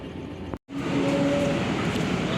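Steady rumble of the Bengawan passenger train pulling into Pegadaian Baru station, heard from inside with a brief dropout and faint squealing tones of slowing wheels.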